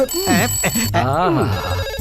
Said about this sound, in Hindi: बजने लगी घंटी